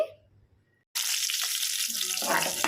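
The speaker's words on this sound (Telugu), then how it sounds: "పచ్చిశనగపప్పు మినప్పప్పు వేసుకొని ఫ్రై చేసుకోవాలండి" Chana dal and urad dal dropped into hot oil: a near-silent pause, then a sudden bright sizzle of frying that continues steadily and loud to the end.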